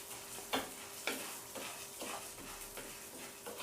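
Moong dal frying in ghee in a pan gives a steady, close sizzle, with sharper scraping stirs roughly every half second and no voices.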